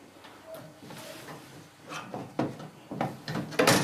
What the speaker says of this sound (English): The metal door will now come away,